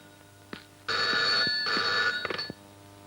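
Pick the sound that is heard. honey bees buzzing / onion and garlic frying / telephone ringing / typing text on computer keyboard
telephone ringing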